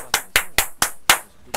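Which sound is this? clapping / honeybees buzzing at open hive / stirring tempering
clapping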